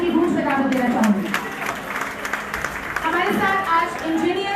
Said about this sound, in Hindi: स्टेज पे आपकी तालियों की गूंज में दावत देना चाहूँगी